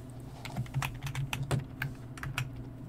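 Quick, uneven keystrokes on a computer keyboard, close and crisp, clicking in short bursts over a low steady hum, with no talk.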